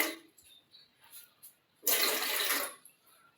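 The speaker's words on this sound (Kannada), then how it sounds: "ಇದಕ್ಕೆ ಒಂದಿಷ್ಟು ನೀರು ಹಾಕೋಣ" Water pours into an idli steamer pot in a home kitchen, a single loud gush lasting under a second after a few faint clinks, then dying away.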